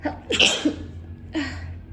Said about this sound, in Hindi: एंड देन मुझे छींक आने वाली है